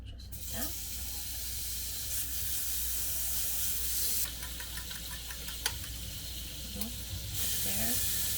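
A generous amount of butter sizzles in a hot pan, giving a loud, steady hiss with occasional clinks and scrapes, plus a brief louder spattering burst partway through.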